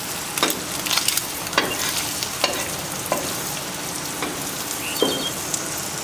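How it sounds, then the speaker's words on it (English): An egg frying in a pan gives a steady crackling sizzle with scattered sharp pops, close and moderately loud, with no talking over it. "Hear that sizzle."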